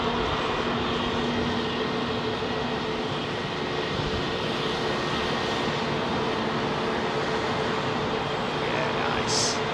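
A large airliner lands on Heathrow's southern runway with a steady, loud, broad engine roar that fills the whole stretch. A voice talks faintly underneath.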